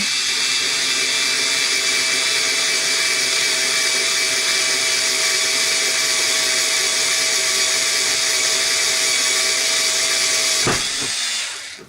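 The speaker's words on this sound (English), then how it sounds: "This is to help the drill start." A loud, steady high-pitched whine from an electric drill boring through wood runs without a break, then cuts off abruptly near the end.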